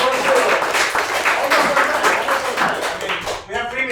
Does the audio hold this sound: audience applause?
yes